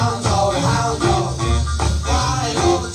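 A single from Teen Records out of Philadelphia, playing steadily with rhythmic band accompaniment and vocals throughout, fairly loud and continuous.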